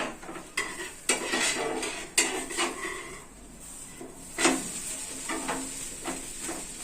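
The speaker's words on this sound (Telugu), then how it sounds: "నేనైతే దోశ చేస్తున్నా" Dosa being made on a very hot griddle pan, with metal utensils clinking and scraping in scattered bursts over a light sizzle. Close, moderately loud, and without speech.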